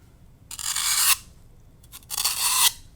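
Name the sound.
trimming craft material for a Halloween assemblage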